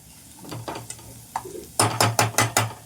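Onions sauté in a pan over moderate heat, heard as a soft sizzle with rhythmic spatula scrapes and stirring knocks that grow louder toward the end.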